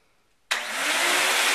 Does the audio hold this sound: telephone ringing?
no